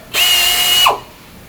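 A power drill runs at high speed as it bores a hole through the side panel of a Comfort XL unit during assembly, whining steadily for under a second before spinning down, loud and close.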